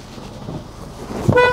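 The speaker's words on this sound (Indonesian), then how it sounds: "Klakson aktif" A short car horn beep from a 2006 Suzuki Swift GL automatic near the end, preceded by low engine idle.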